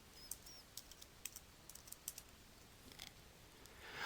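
Someone types quietly on a computer keyboard, giving scattered soft key clicks in short bursts against a hissy, quiet background.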